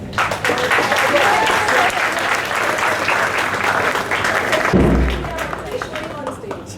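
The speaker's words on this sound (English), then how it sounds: "I need a big round of applause" Big round of applause from parents at a school investiture ceremony, loud and continuous with a low thump partway through, then easing slightly near the end, with some voices mixed in.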